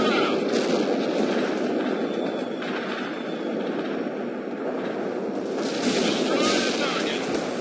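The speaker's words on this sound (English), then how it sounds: "Armored transport firing at hostiles." Gunfire from an armored transport in the video game World in Conflict sounds as a dense, continuous rumble of shots and battle noise, loud and steady throughout with slight swells, with no clear voices.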